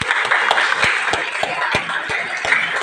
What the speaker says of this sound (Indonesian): tepuk tangan dulu Mas